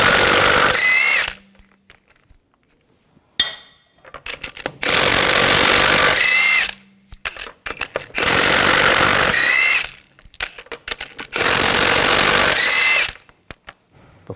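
Impact tool with a 19mm socket spinning lug bolts off a 2000-2006 BMW X5 front wheel, four loud sustained whirring bursts of a few seconds each, separated by quiet gaps with small clinks, no talk.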